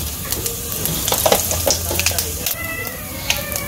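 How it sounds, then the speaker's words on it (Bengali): Cumin seeds hit hot oil in a pan while cooking a village-style curry, giving a steady close sizzle with crackling pops, and a cat meows faintly in the background. "জিরা দিয়ে দিলাম"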